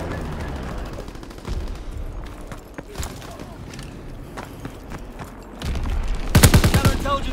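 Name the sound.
aircraft strafing run machine-gun fire in Call of Duty video game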